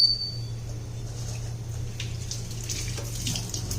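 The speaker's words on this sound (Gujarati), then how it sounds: "હવે આને એકદમ સરસ મિક્સ કરી અને જોઈએ એટલું પાણી એડ કરશું" Water poured into a ginger, chili and garlic mixture gives a soft, steady trickle and splash for a few seconds against a low constant hum, with no talking.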